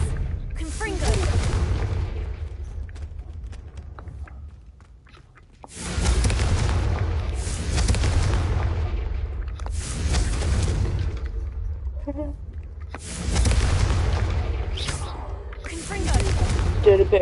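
Repeated fiery blasts from the Confringo explosion spell in the Hogwarts Legacy video game, three heavy booming bursts with rumbling low end, separated by short lulls, with a voice talking between them.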